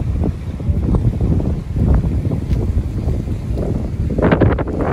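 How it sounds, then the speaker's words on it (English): Strong wind gusts buffet the microphone outdoors on a brisk evening walk with a dog, a loud continuous rumbling roar with rushing surges throughout and no talking. "It's pretty brisk out there and windy."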